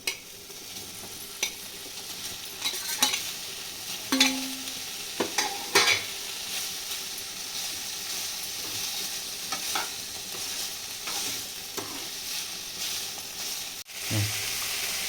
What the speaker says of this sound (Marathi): पनीर थोडंसं फ्राय करून घेते यामध्ये